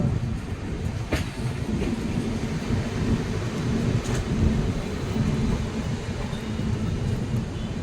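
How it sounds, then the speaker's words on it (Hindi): A train hauled by a WFA7 electric locomotive rolls past on an Indian railway near Hatia station, a loud continuous rumble with rhythmic wheel clatter and occasional sharper rail clanks, steady and close throughout. "WFA7 लोकोमोटिव से कोई ट्रेन निकल रही है"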